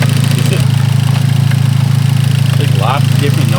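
Close up, a damaged Hyundai Genesis Coupe engine idles with a top-end noise: constant loud, lumpy running with a regular ticking pulse. A person speaks briefly over the engine.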